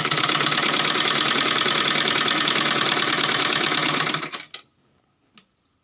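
A sewing machine stitching lehenga fabric runs in a fast, steady mechanical whir-and-tick for about four seconds, then stops with a soft clack and a faint click afterward.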